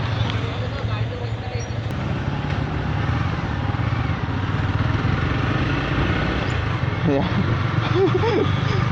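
Motorcycle engines rumble and rev steadily during bike stunts at an outdoor gathering, with crowd babble and people talking over the continuous engine drone.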